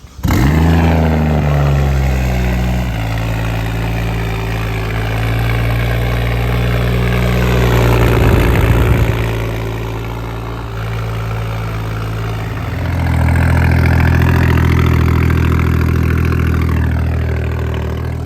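A straight-piped BMW 335is with a single-turbo N54 engine and unfinished welded stainless exhaust fires up for the first time, a loud raspy cold-start flare settling into a rough droning idle, with blips of revs partway through and near the end.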